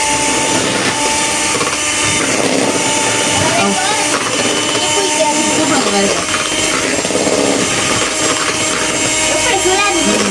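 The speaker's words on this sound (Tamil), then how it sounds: "இந்த முட்டை நல்ல வடிவா அடிக்கணும்" Eggs are beaten for cake batter with an electric mixer, a loud, continuous whirring and rattling that runs steadily throughout while a person talks over it.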